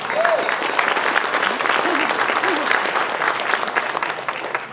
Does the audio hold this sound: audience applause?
yes